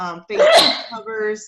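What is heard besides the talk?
sneeze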